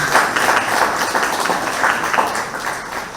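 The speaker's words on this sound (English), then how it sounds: "A round of applause to the city of San Fernando." At a San Fernando City Day awards function in Trinidad and Tobago, an audience applauds with steady, dense clapping that fills the hall for a few seconds and then eases slightly.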